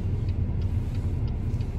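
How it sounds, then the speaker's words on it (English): Idling cars queued at a red traffic light give a steady low engine rumble from inside a waiting vehicle, with faint regular ticking above it and no talk. "there's a whole row of cars behind us"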